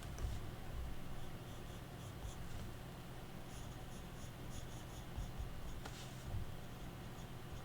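Pencil scratching and sketching on paper in a steady, close stream of soft strokes, with a few sharper marks standing out, and no talking.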